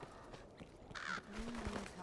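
A single crow caw from Dragon's Dogma: Dark Arisen rings out briefly over low game ambience, followed by a faint tonal sound, with a voice talking around it.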